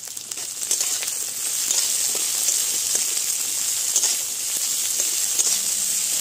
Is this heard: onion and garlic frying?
yes